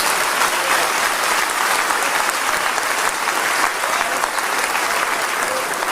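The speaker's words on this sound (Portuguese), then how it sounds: "Palmas para o Senhor Jesus." Loud, sustained clapping from a large church congregation at the closing service of a national convention in Curitiba, a thick continuous roar of hands with no break.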